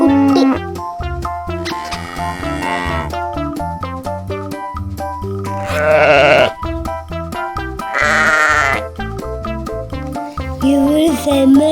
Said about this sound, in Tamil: இவரு செம்மறியாடு